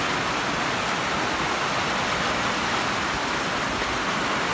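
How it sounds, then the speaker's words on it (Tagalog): Downpour in Taguig roars as an unbroken wash of rain, thick and steady, heard close with no talking over it. "Tingnan nyo kung gaano kalakas yung ulan."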